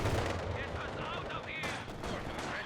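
Company of Heroes 2 battle audio: dense, loud bursts of machine gun fire with mortar impacts mixed in, rattling continuously with little pause.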